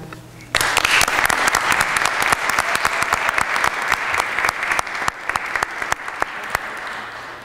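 An audience claps at a Keuka College Sigma Theta Tau nursing honor society induction ceremony, sustained applause that starts abruptly after a brief pause and continues steadily with sharp individual claps.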